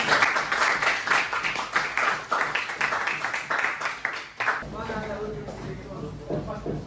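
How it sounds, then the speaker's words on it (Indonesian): A classroom group claps for about four and a half seconds, a dense patter of many hands, before a voice starts talking as the applause fades. "Oke, tepuk tangan ya."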